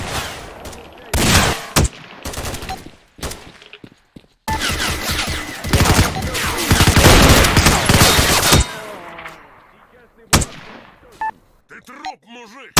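Rapid gunfire bursts from the video game STALKER, loud clustered shots and automatic fire in several bursts separated by short gaps, with a voice talking in between.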